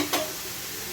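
Beetroot curry stirred in a pan, a brief spoon scrape near the start over a steady low sizzle that continues alone for the rest of the second.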